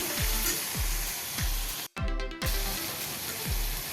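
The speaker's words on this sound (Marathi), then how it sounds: "थोडीशी मी शिमला मिर्च पण घातलेली आहे अगदी बारीक चिरलेली आहे ती पण आपण थोडी ह्याच्याबरोबर परतून घेऊया" Finely chopped capsicum sautéing in a hot pan as part of a quick bun dosa filling, with a steady close sizzle, periodic stirring scrapes, and a brief break in the frying noise midway.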